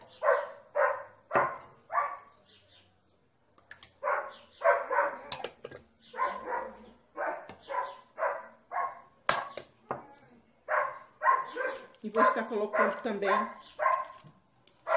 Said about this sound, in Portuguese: Esse cachorro tava caladinha até a mesa. Foi eu começar a gravar. Ela começa com essa latição.